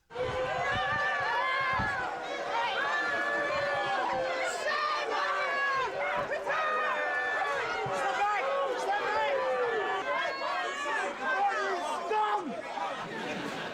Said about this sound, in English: Here's some raw footage capturing the strong reaction of the crowd as she left.